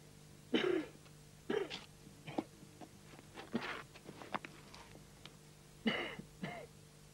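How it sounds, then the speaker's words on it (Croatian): A man coughs and clears his throat in several separate hacking bursts spread across the stretch, fairly quiet and close, as he adjusts to the thin air at high altitude. "Grdno mi kašlješ"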